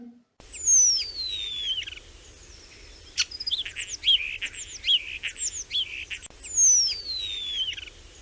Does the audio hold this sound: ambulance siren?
no